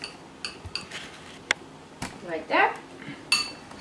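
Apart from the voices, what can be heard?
spoon clinking while mixing parsley sauce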